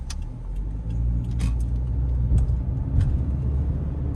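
A Subaru WRX Premium with a CVT drives off, its engine a steady, loud low rumble heard close from inside the car, with a few brief scrapes and clicks over the top and no talk.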